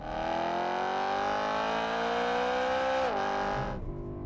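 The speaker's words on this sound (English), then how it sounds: "Hell yeah, that noise. You can see there the ferocity of that upshift." A loud BMW E92 M3 engine revs steadily upward, then drops sharply as it shifts up a gear before the sound cuts off, with no talking.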